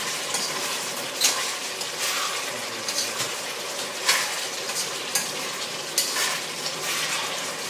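Pork sizzles steadily as it fries in its own rendered fat, with a utensil stirring through the hot oil at intervals, producing a continuous close crackle with brief louder scrapes.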